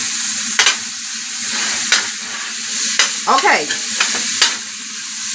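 Oil simmers and crackles quietly in a pan while cooking chicken and dumplings, a soft steady sizzle punctuated by several sharp utensil knocks and scrapes, with a brief spoken word.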